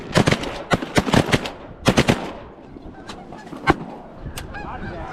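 During a Pennsylvania goose hunt on big water in a snowstorm, loud, rapid honks come in quick bursts up close, then thin out to scattered calls and a sharp crack.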